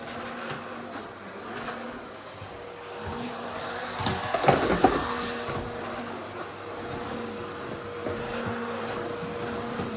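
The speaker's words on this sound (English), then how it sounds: "I like to tidy it up before I vacuum it so there's nothing going to get sucked up the vacuum cleaner" A Dyson vacuum cleaner runs steadily indoors in a bedroom, a constant whirring drone with a brief louder rattling surge midway as it passes over something.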